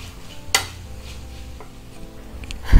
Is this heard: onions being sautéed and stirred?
yes